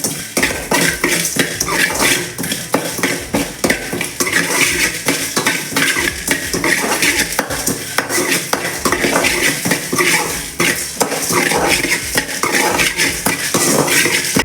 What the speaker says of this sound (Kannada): ಸ್ವಲ್ಪ ಚಕ್ಕೆ ಫ್ರೈ ಮಾಡಬೇಕು.